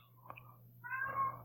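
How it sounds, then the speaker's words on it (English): A house cat meows once in the background, a short rising-and-falling mew that comes late and sits fairly faint over a steady low hum. "That's my cat back there."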